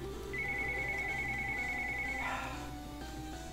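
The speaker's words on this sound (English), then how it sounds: "Not a good time for the phone to ring." A phone ringtone sounds as a single sustained electronic tone lasting about two seconds over background game music, moderately loud and close, with no talk over it.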